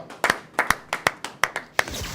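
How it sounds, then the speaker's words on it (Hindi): An audience at a Hindi comic poetry gathering claps in short, uneven bursts for a poet being welcomed, with sharp separate hand claps rather than a dense roar. "जोरदार तालियों से अभिनंदन करें।"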